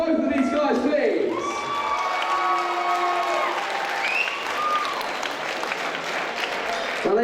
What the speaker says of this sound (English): big round of applause for both of these guys